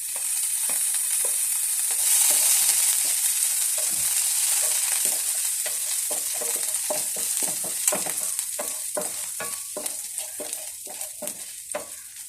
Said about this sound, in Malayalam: അപ്പോൾ നമുക്ക് കുറച്ച് വെളുത്തുള്ളി ഇതിലോട്ട് ഇട്ട് കൊടുക്കാം.